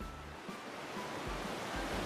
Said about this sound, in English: A massive wall of water races across the ocean, crashing onto land with unstoppable force and sweeping away everything in its path.